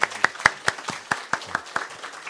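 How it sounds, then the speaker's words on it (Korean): A church congregation at an early-morning service claps in a steady rhythm, about a dozen sharp claps in quick succession at moderate distance, with no talk over them. "우리 격려와 환영의 박수로 맞이하도록 하겠습니다"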